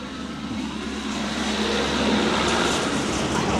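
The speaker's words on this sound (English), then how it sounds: "There's a tractor." A tractor passing by in Regent's Park, a broad, loud engine rumble that builds and holds steady for a few seconds with no talk over it.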